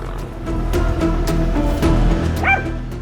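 A small dog yaps and barks repeatedly at a lizard, short sharp yips with a whimpering edge close by over steady outdoor background noise, a brief rising squeal near the end.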